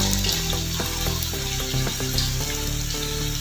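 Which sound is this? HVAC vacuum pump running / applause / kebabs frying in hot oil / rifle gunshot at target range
kebabs frying in hot oil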